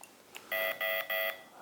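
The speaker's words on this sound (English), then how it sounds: "It's just beeping at me saying it will not start." Three short electronic beeps in quick succession from a Festool ETS EC 150 sander refusing to start without its hose attached, clear and fairly close over a quiet background.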